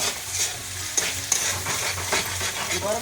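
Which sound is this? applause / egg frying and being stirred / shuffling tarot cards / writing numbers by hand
egg frying and being stirred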